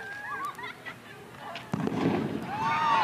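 Firecracker bomb bursting at an outdoor county fair stunt show in Ohio, a sharp bang partway through followed by crowd noise, with people talking and faint bird-like whistles before it.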